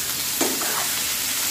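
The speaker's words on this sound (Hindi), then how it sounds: "इसमें डालेंगे थोड़ा सा जीरा।" Cumin seeds sizzle in hot oil in a nonstick frying pan, a steady close hiss with a brief louder crackle as they hit the pan.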